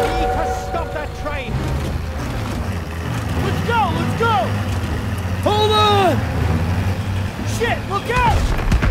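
A WWII Jeep in Call of Duty WWII rumbles steadily with engine drone throughout, while shouting voices, whistling shells and battle noise rise and fall over it.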